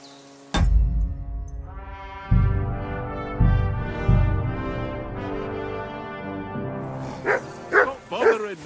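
In Kingdom Come: Deliverance II, a dog gives a few deep, drawn-out barks and whines, moderately close, with a voice talking over the end.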